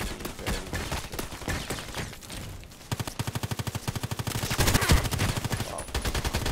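M4A1 Custom rifle fired in Contract Wars: loud, close rapid automatic bursts with a long steady rattling volley in the middle, over continuous game background noise.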